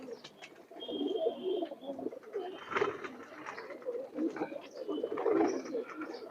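Pigeons in a loft, including Bagha and green-necked birds, keep up a soft, continuous cooing from several birds at once, low throaty murmurs overlapping close by.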